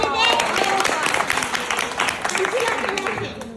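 A group claps at a small gathering for a medal presentation to a girl, steady overlapping hand claps mixed with nearby voices talking throughout.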